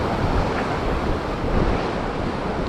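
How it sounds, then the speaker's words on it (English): Sea swell rolling and breaking along a shoreline at a bass fishing spot, heard as a steady, loud wash of surf with wind buffeting the microphone throughout, no voices. "Nice little bit of swell in here as well."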